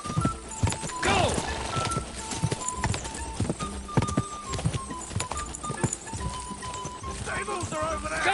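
A horse gallops in the video game Kingdom Come: Deliverance 2, its hooves beating a fast continuous clip-clop with a whinny early on, under shouted game dialogue and background music.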